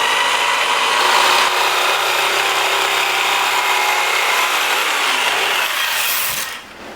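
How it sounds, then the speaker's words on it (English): A jigsaw cuts wood along a marked line for a mobile sanding center's dust collection build, giving a loud, sustained buzzing rasp that holds steady for several seconds before stopping abruptly near the end. "I'll probably have to move these clamps here and there to be able to negotiate the jigsaw around,"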